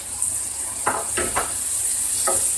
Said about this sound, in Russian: И обжариваем еще 5 минут все вместе.